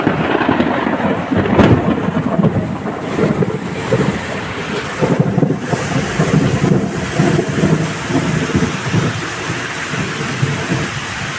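A thunderstorm with nearby lightning: loud cracking thunder bursts around two and five seconds over heavy rain and wind buffeting the microphone, followed by rolling rumbles.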